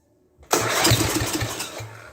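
An MTD 12/38 lawn tractor's small engine, given throttle and choke, cranks and catches, roaring up loudly and running steadily close by for nearly two seconds with no talk.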